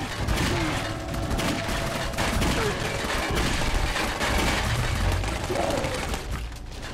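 Sustained video game gunfire in Clive Barker's Jericho, a dense, continuous barrage of shots and bursts from several weapons filling the whole stretch at high loudness, with brief voices mixed in.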